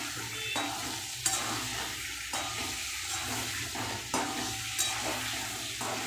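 Pointed gourd (potol) frying in a pan, a steady sizzle broken by repeated scraping stirs with a spatula, close and fairly loud, several strokes in rough rhythm.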